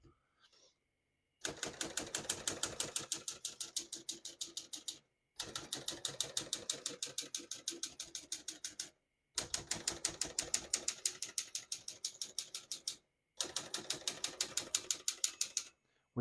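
Steady clacking of keys on a 1954 Olivetti Lettera 22 portable typewriter comes in four long bursts with short pauses between them, and a faint bell sounds at the end of the margin.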